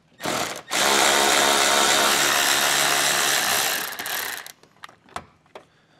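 A power tool zips out a 10 millimeter bolt on a 2022 Jeep while a base plate kit is fitted, a loud close whir lasting several seconds, then a few scattered clanks and taps.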